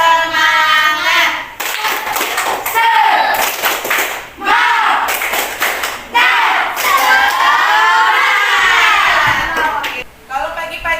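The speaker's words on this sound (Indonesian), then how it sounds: "mari kita sama-sama tepuk semangat dulu. 1, 2, 3. Tepuk semangat." A classroom of children performs a tepuk semangat clapping chant, with loud rhythmic claps under shouted group chanting and bursts of children's voices.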